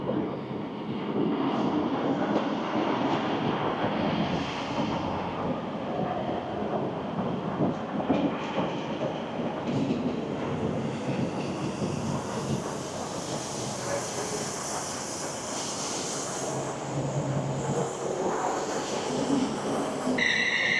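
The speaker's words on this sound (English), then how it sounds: "Okay, the train has arrived." A train rumbles and hisses steadily as it pulls into a platform in Manchester, with a rising high-pitched brake squeal toward the end.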